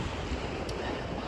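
Sea waves washing against a breakwater pier on an empty Adler beach in Sochi, a steady broadband surf wash with wind noise on the microphone, continuous and moderately close with no voices.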